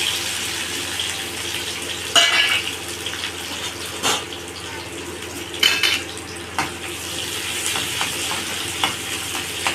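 Lentils and tempering spices frying in oil in a pan for gongura dal, a steady soft sizzle with occasional clinks of a utensil against the pan, no talking.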